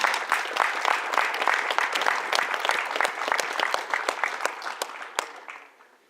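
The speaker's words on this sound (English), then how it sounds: "may we applaud him because that is wonderful" An audience applauds a young performer at an event, dense sustained clapping close by that fades out over the final second.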